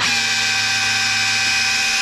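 A Makita hammer drill running in drill-only mode, a loud steady motor whine with constant tonal hum and gear buzz, close and uninterrupted, with no voices.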